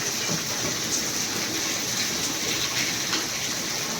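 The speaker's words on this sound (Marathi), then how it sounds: "सकाळूनच पाणी चालू आहे आमच्याकडं" Heavy rain pours down steadily on a farm, a dense, loud, unbroken hiss and patter close by that continues without pause, with no voices.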